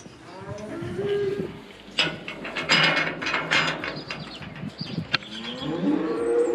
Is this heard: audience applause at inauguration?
no